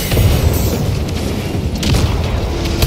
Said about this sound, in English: Frag grenade out!